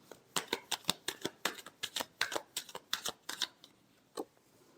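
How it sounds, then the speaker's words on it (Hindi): Tarot cards being shuffled, a quick series of crisp riffling slaps in a steady rhythm, close and clear, ending with one last isolated snap after a short pause. "last shuffle"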